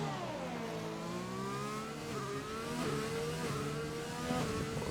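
Race car engine on a hot lap at the Hanoi circuit in a sim racing league event, running low in the revs with a steady droning tone that steps through several quick upshifts, close and continuous.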